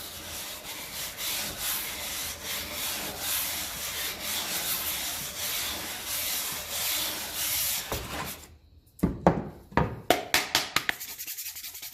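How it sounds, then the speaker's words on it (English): A plastic part from a 1954 Ferguson 20 TEF diesel tractor rubbed on sandpaper, a steady rough scraping for several seconds, then a pause and a run of short, sharp strokes, close up. "I've been hitting this on the top of the sandpaper."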